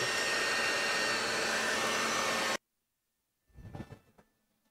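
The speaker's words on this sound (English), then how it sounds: "I got a leaf blower, a Dyson vacuum, and a fan on the floor" A leaf blower, Dyson vacuum and floor fan run together as a loud, constant roaring rush that cuts off abruptly, followed by silence and a brief muffled thump.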